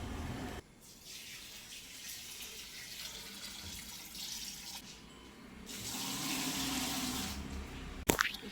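Water is poured from a bucket into an LG washing machine with a steady, splashing rush that swells louder midway and ends with a brief clatter.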